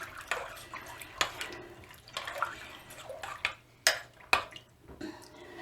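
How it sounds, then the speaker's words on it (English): Spoon stirring navy bean soup with parsley in a slow cooker: wet sloshing and swirling liquid with sharp clinks of utensil against the pot, irregular and close, no talking. "And I'm going to stir this up."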